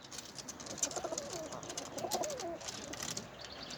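Pigeons with leg bands coo near a farmyard coop, repeated low throaty rolls layered over faint higher chirps in a steady outdoor background.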